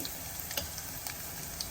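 Dried red chilies and garlic sizzling in tempering oil, a soft, continuous crackle with faint pops.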